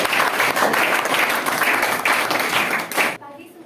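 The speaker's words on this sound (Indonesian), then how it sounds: "Tepuk tangan ya" Classroom audience of teachers claps for a group coming to the front at a school training session, a brisk burst of overlapping hand claps that stops abruptly near the end, leaving a quiet room.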